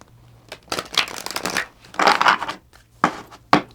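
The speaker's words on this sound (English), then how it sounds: "I shuffled that 8 million times" Tarot cards being shuffled by hand, several bursts of papery riffling and rustling at close range, loud then pausing between shorter flurries.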